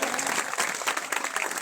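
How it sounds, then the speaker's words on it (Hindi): A hall audience at a Harda comedy poetry gathering breaks into loud, dense clapping for a small child, continuous and close throughout the short stretch. "एक बार पूरा सदन छोटे बच्चे के लिए जोरदार तालियां बजाए"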